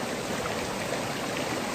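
Cooper Canyon Falls pours steadily as a dense, even rush of falling water, constant and fairly loud with no pauses or voices.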